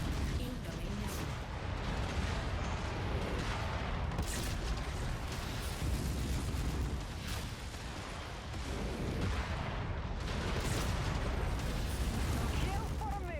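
Missile explosions in a mech combat video game, heard as a continuous rumbling barrage of booms and blasts at moderate level, with talk mixed in over the battle.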